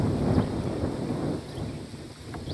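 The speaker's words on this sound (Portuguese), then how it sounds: "Desculpa o balanço aí, porque tá ventando muito." Strong wind gusts roar across a roadside outdoors, buffeting the microphone with a steady, close rumble and no speech.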